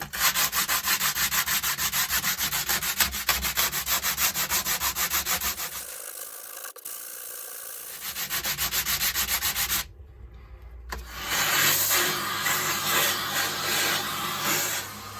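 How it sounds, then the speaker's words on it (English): Sandpaper rubs back and forth across a wooden guitar top in fast, steady strokes, pausing briefly twice before the scratchy sanding resumes. "I'm going to do some sanding on it"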